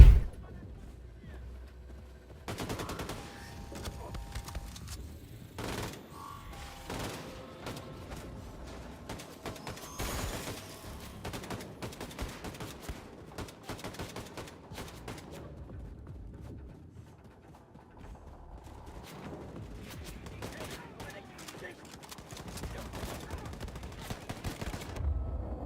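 Assault rifle and shotgun fire in Wolfenstein 2 on Nintendo Switch, rapid bursts and single blasts scattered across a busy, fairly quiet combat mix with game effects between shots.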